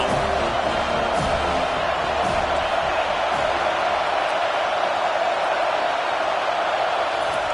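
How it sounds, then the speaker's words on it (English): A dense, steady roar fills a stadium as the crowd gets behind the defense on third down during an Ole Miss versus Florida State college football game, loud and unbroken throughout. "Decibels rising as the crowd gets behind this defense on 3rd down."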